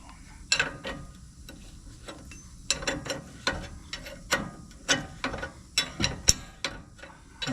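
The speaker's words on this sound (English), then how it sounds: "I'm gonna get some wrenches and tighten those up." Wrenches ratchet and click in repeated short bursts while nuts on a Wagoneer's wobbly front end are tightened, close and crisp against quiet background.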